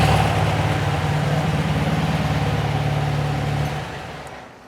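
A 1972 VW Beetle with a dual-carb engine idles steadily at about 1,000 RPM, a close, even low throb with a dense rhythmic pulse that holds loud and alone before easing off near the end.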